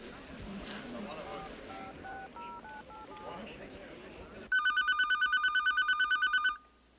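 A telephone is dialed with a short run of tones, then rings loudly with a rapid, trilling bell for about two seconds before stopping.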